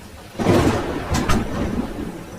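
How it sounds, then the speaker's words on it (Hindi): Heavy rain falls during a thunderstorm, a dense hiss that swells suddenly into a loud rumbling wash and stays strong, with a brief sharper burst midway. "बारिश भी बढ़ चुकी है।"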